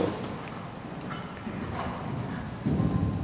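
Horse hooves clip-clop steadily at canter during a dressage session, with flying changes on the diagonal, heard at moderate distance in an arena with no speech.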